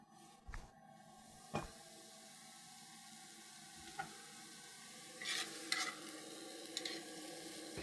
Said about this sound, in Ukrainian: Накриваю кришкою, хай тушиться.